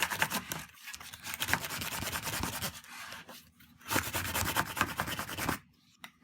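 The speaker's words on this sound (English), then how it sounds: "put it paper side down with the grid, waxy side up, and I'm going to burnish this" Sticky vinyl on its paper backing is burnished with firm, fast rubbing strokes in two long close bursts, separated by a brief pause and ending in near silence.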